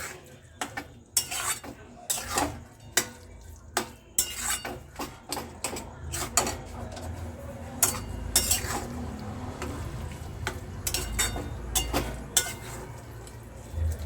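A spoon stirs fried eggs through an egg tarka curry in a pan, producing repeated clinks and scrapes of metal on the pot over a soft sizzle, close and moderately loud.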